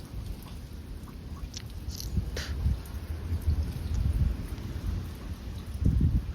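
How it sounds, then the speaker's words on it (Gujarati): A thunderstorm with rain falling steadily throughout over a farm at sowing time, deep rumbles of thunder rolling low and building near the end, without any voices. "જો હરવડ્યો વીજળી મિત્રો બહુ થાય છે, કડાકા ને ભડાકા."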